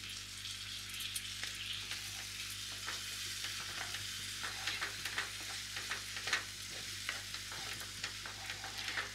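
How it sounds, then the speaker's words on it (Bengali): Spice paste with Kashmiri chilli powder and sour yogurt fries in a pan for steamed egg curry, a continuous quiet sizzle with soft stirring clicks and scrapes scattered through it, close and even, no voices. "এইবারে মশলাটা আমি ভালো করে ভেজে নেব।"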